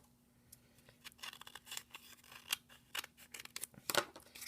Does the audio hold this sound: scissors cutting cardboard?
yes